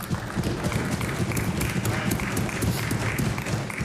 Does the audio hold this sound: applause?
yes